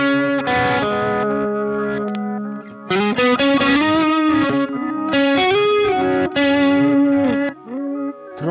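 An electric guitar melody drenched in delay, notes echoing and overlapping into a continuous wash. Loud, sustained, with a slightly distorted, modulated tone and no speech.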